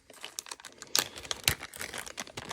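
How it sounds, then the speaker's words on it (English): Plastic packaging of an Atibal E2 red dot sight crinkles and crackles up close in irregular bursts, with a couple of sharper crunches as it is handled. "So we can go ahead and take this out of the package."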